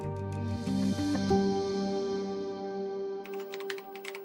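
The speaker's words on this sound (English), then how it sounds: "4 years later, Roberto sat at his computer typing up a restaurant review" Typing on a computer keyboard for a restaurant review: a brief run of light clicks near the end, laid under a sustained, tonal musical bed that dominates the clip.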